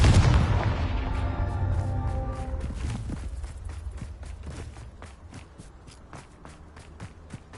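A Confringo spell explodes in Hogwarts Legacy with a loud, close broadband blast that rumbles and decays over several seconds, trailed by a string of sharp crackling impacts and debris pops fading into the distance.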